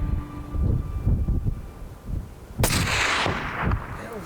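A loud rifle shot cracks out during an exotic game hunt, with a broad blast and rumbling tail after earlier rustling and movement noise; no talking.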